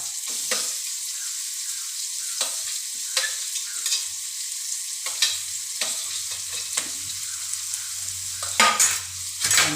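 Chopped onion frying in a pan with green chillies, stirred toward a light pink colour; a steady close hiss of sizzling is broken by repeated scraping stir strokes, with a low hum entering in the later seconds.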